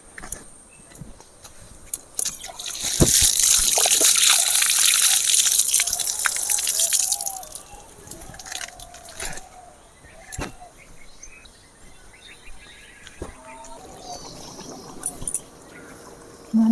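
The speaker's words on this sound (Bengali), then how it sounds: "এগুলো এবারে আমি ধুয়ে নেব।" Running tap water and dripping as fresh green vegetables for a cauliflower curry are rinsed by hand, a loud broad wash for a few seconds, then quieter trickles and splashes.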